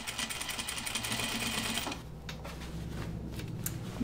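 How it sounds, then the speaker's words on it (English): A sewing machine edge stitching denim jeans runs with a steady, fast mechanical whir for about two seconds, then continues more softly with some light clatter. "I'm going to edge stitch one and we'll see what we think."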